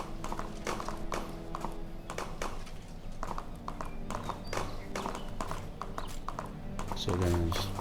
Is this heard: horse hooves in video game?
yes